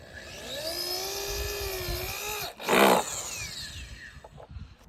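A power drill whines as it drives screws into the wooden boards of a backyard ice rink, a sustained motor drone with a sharp louder burst near the end before it tails off.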